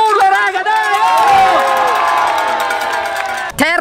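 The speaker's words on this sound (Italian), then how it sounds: "Un ultimo urlo, raga, dai!" A crowd at a Party Ride ski event in Pila lets out one loud, sustained cheer with whoops and shouts, fading slightly before a last burst of voices.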